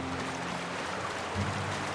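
A waterfall in the video game The Outer Worlds gives a soft, steady rushing hiss of falling water, faint and continuous with no voices.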